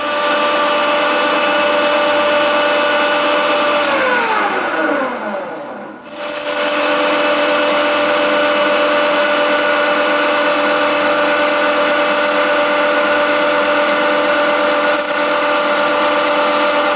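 Machine drilling into metal with a 6.8 mm drill bit, a steady loud mechanical whine with tonal hum running throughout, briefly dipping and pitch-sweeping around the middle before resuming evenly.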